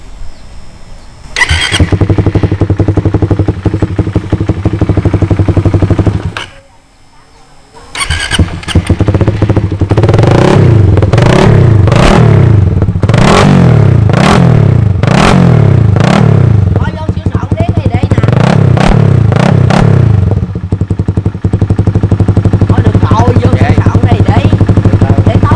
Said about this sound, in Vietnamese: Rồi thì bây giờ sẽ nổ máy anh em nghe này kia ngon lành cái ha.